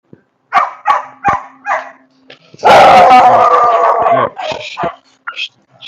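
Several dogs let out a run of sharp, close barks, break into one loud sustained howl of about a second and a half, then return to short barks and yips.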